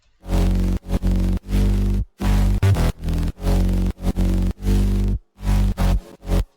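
Gritty, distorted synth bass from an electronic drop, heavily compressed and fattened, hitting in loud choppy bursts separated by sharp gaps, with a buzzy rasp on top, alone and without talk.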